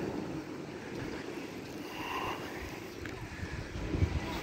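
Black Sea surf rolling onto the shore in Odesa in February, a soft continuous wash of waves mixed with wind buffeting the microphone, fairly faint and steady.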